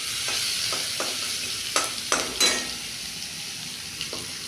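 Spices for ghugni fry gently in a pan over a low flame, a soft steady sizzle broken by a few light scrapes and clinks of a spoon stirring.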